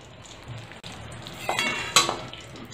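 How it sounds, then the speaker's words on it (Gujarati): Jaggery being stirred into melted ghee in a pan, with faint scraping and a few light metallic clinks of a spoon against the pan over a soft, steady background. "અને સરસ આપણે ગોળને ઘીમાં મિક્સ કરી લેવાનો છે।"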